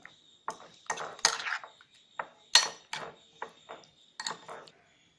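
Spoon scraping and clinking against a pot while curd is mixed into kovakka (ivy gourd) kichadi, a run of close, irregular metallic taps and scrapes with short pauses between strokes.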